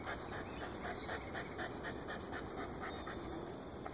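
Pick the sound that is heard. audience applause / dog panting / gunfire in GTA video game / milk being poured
dog panting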